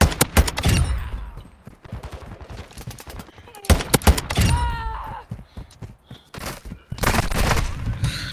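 Video game gunfire in sharp bursts, rapid automatic volleys and single shots spread across the clip, with a voice briefly between them.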